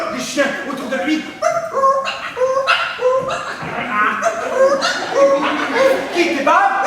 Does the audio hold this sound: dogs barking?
yes